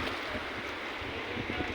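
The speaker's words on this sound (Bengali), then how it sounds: "এই যে ঢেউ আবার এসে" Sea waves rolling and washing ashore at a beach, a steady broadband wash of surf with wind buffeting the microphone, continuous and fairly close.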